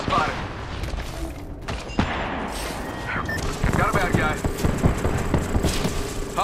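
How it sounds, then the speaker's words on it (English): Loud gunfire in Apex Legends, with repeated shots and rattling bursts from a nearby firefight, mixed with game effects and voices talking throughout. "Getting shot at."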